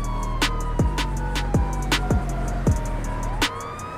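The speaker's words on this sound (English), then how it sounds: "Just gonna leave the siren on and everything roll out." Police car siren in GTA 5, wailing continuously with repeated rising and falling sweeps over a steady engine-like hum and periodic sharp bursts, loud and close with no talking.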